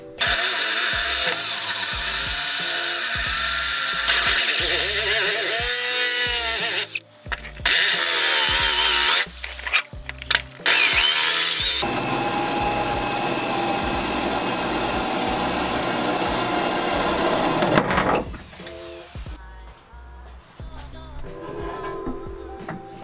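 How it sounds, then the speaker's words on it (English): A power drill bores through a car's trailing arm section where a plate has been welded in, with a long steady whine interrupted by several stops and restarts, then a lighter grinding tail as it breaks through. "I'm going to start going ahead and actually drilling through this section here"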